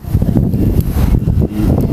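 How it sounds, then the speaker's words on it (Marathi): Wind gusts outdoors in an open field where food is fried over a wood fire, a loud steady rumble buffeting the microphone with no talk. "वारा सुटलेला आहे थोडंसं"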